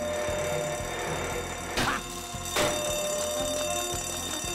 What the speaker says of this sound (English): Quiet the alarms, they're gonna wake Jeffrey.